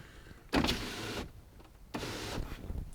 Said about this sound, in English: I like to roll this window down quite a bit because the truck is high up.